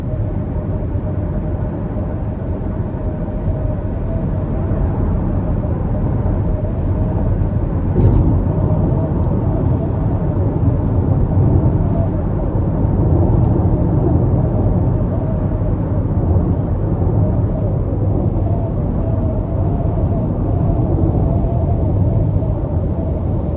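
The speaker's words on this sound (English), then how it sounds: "the ride is really, really nice coming down the interstate. Just a little bit of wind noise" Cabin of a 2022 GMC Terrain SLT 1.5T AWD cruising on the interstate, with a steady broadband wind and road rumble holding constant throughout and no talk.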